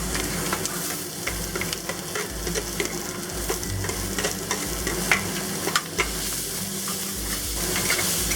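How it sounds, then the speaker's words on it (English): Garlic, ginger and onion stir-fry in hot oil with a continuous close sizzle and hiss, punctuated by frequent clicks and scrapes of stirring, with no talking. "stir fry this for about 30 seconds so the onions soften up a bit"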